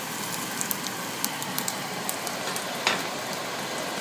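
An egg frying in a pan for an egg and cheese dish, giving a steady hiss of sizzling with scattered sharp pops and crackles.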